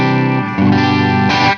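Electric guitar on a clean channel through a PRS MT15 amp and Torpedo Captor X, a few loud sustained chords changing twice in quick succession, rich and slightly shimmering, alone with no talk.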